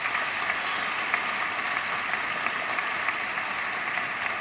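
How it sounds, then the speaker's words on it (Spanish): A church congregation at a Catholic Mass applauds loudly and steadily, a dense, even wash of clapping with no talking over it. "Dale ese fuerte aplauso al Señor."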